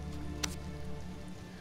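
Steady rain falls in the survival game Sheltered, a soft continuous patter with one brief louder splash, set under sustained tonal game sounds.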